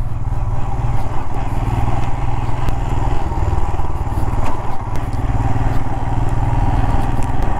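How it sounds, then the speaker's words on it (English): A Royal Enfield Himalayan motorcycle rides over mild off-road terrain. Its engine gives a loud, steady, close rumble, mixed with clatter and crackle from the rough ground, and it runs without pause. "Now I'm sitting on the motorcycle and going through some off-roads, not too hard,"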